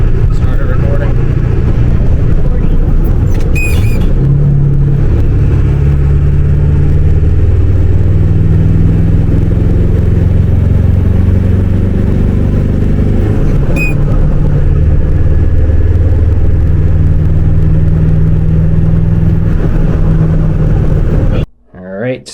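OBS Powerstroke diesel truck pulling hard under load, a loud, deep, steady engine drone with turbo whine filling the cab, ending in an abrupt cut.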